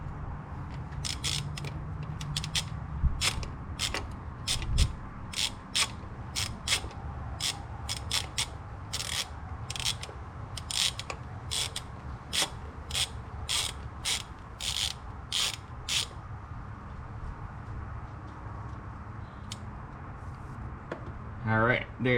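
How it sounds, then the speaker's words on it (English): A ratchet with a 15/16 deep socket loosening a pressure relief valve, a close series of quick, sharp ratcheting clicks in bursts over a low mechanical hum, with some talking. "Got my 15/16 deep socket on."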